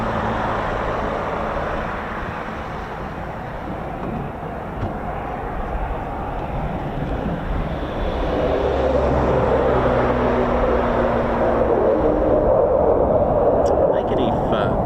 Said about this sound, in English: Does sound like the Osprey APU, doesn't it?